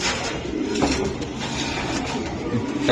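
Racing pigeons wearing club tags at a loft coo softly and continuously close by, their low throaty calls overlapping with no talking.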